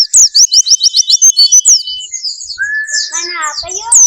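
A Sumatran white-eye (pleci) sings up close and loud, starting with a quick series of sharp repeated chirps and moving into varied warbling twitters.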